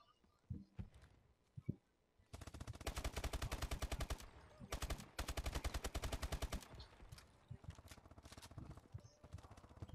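Short bursts of tap-fired gunfire in Call of Duty: Advanced Warfare, loud rapid cracks in clustered volleys with brief pauses, plus scattered game sounds and faint footsteps between bursts.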